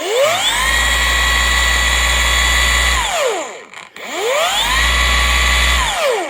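A Rupes Uno polisher with a pad spinning up twice, each time a loud close whine that climbs in pitch, holds, then winds down, with a brief gap between the two runs.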